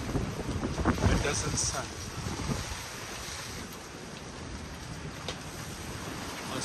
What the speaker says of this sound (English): You can hear the sound of the wind gushing.